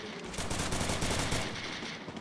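Rapid automatic gunfire from the Free Fire battle royale game crackles in a dense, continuous burst, loud and close throughout.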